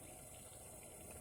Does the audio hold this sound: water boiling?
yes